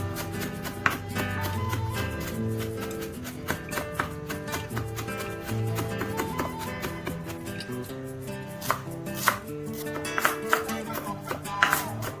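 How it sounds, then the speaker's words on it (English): Knife finely chopping dill on a cutting board, quick repeated taps in a steady rhythm, close by, under a continuous musical background. "And we have to chop very fine."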